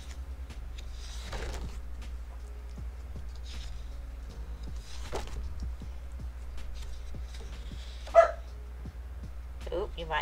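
A dog barks early in the morning indoors, a few short, moderately loud barks spaced across the clip over a quiet, steady hum, with one sharper yelp near the end.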